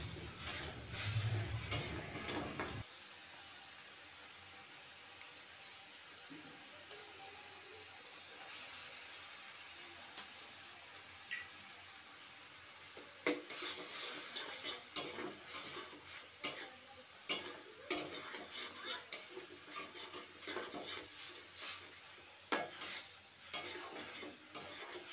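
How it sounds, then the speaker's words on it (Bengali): Cauliflower frying in a pan being stirred, soft sizzling with intermittent scraping and clinking of a spoon against the pan, quiet and close, with no talking. "এটাকেও আমি একটুক্ষণ নেড়ে নেব।"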